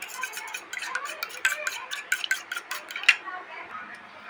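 Eggs beaten with a pinch of salt and chili powder produce rapid, rhythmic close-up tapping and clinking of a utensil against the bowl, which stops shortly before the end.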